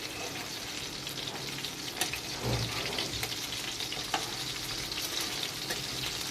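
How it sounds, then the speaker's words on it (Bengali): Fish pieces fry in oil with a continuous crackling sizzle, close and moderately loud, broken by a brief thump and stirring around the middle as the fish is turned. "এবার মাছগুলো তেলে ছেড়ে দিচ্ছি। মাছটা খুব কড়া করে ভাজার দরকার নেই, আর হালকা করে ভেজে নেব।"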